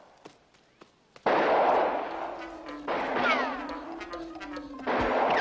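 Sniper gunfire in the video game Highlander: The Last of the MacLeods, loud sharp shots in repeated bursts after a few faint ticks, with a sustained tonal whine running under the blasts.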